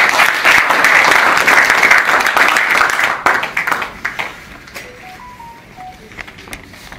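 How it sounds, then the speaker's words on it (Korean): Audience applause in the second-floor auditorium of the Korean Christian Building at a civic movement's founding ceremony, loud dense clapping for about three seconds that thins into scattered claps and fades to quiet. "박수 한번 해드리겠습니다."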